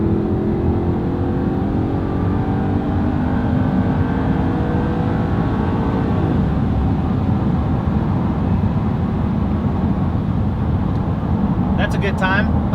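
An Audi R8 in sport mode accelerates onto a highway, its engine drone rising steadily in pitch and staying loud and continuous, with road and wind noise underneath and someone talking over it.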